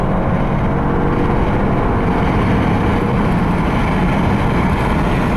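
Skoda Rapid 1.0 TSI with a 95 hp engine and manual gearbox, accelerating hard from a standstill with the windows open: a loud, steady roar of engine and wind rushing past, unbroken throughout.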